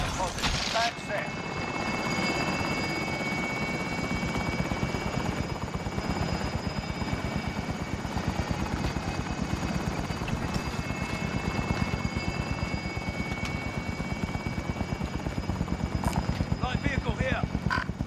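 A helicopter hovers in Call of Duty Warzone Plunder mode, its rotor a steady rapid chopping thrum held at an even level, with in-game radio voices talking over it.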